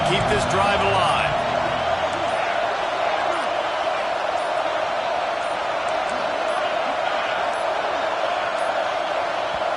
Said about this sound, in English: with this place rocking, the crowd forces a false start